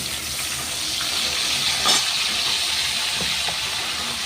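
Spices hit hot oil in a pan, giving a steady broadband sizzling hiss that holds evenly throughout, with no talking.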